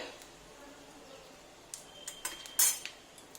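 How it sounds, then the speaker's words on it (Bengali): A utensil stirring dried chilli, cumin and a bay leaf in a pan, heard as quiet light metallic clinks and scrapes that grow busier in the second half over a low, faint background. "শুকনো লঙ্কা আর একটু জিরে দিয়ে দিলাম একটু নাড়িয়ে নিয়ে"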